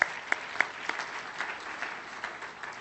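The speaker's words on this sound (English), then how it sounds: "Give yourselves a round of applause, please." A gala audience at a charity's 15th anniversary dinner breaks into a round of applause, with a few sharp nearby claps standing out at first over a steady, moderately faint wash of clapping across the room.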